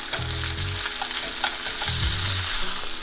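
Salmon fillets sear in a hot pan: a loud, steady sizzle and crackle close by, with a few brief low scrapes as the fish is moved.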